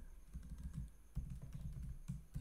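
Close, steady typing on a computer keyboard, with quick irregular clicks in short bursts and no voice over it.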